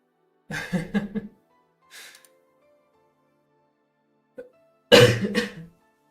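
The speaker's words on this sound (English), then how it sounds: "Excuse me for the loud coughs." Several loud, harsh coughs come close up in short clusters, separated by quiet gaps, with one brief throaty sound in between.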